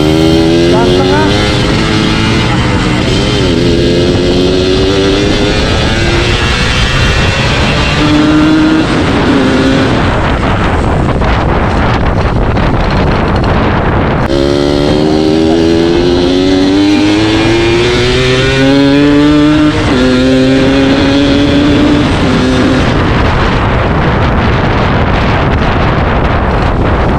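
A motorcycle with an oversized carburetor revs repeatedly at half and full throttle, rising and falling engine whines in close succession, loud and near, with wind buffeting the microphone and someone talking between bursts.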